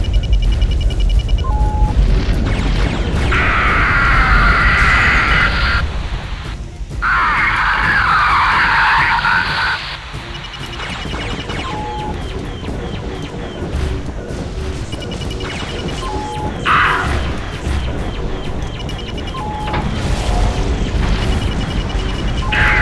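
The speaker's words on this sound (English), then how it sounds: "Okay, they've actually launched bombs." Bombs detonate in the space combat game Wing Commander Saga, heavy booming blasts with rumbling crackle arriving in loud bursts over a constant background drone, with a further burst later on.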